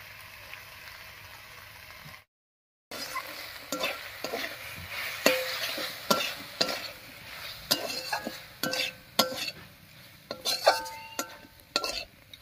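Spices sizzle and fry in a pan for a Bengali fish-head and dheki saag curry while a utensil stirs and scrapes repeatedly, with clinks against the pan, after a brief silent break near the start.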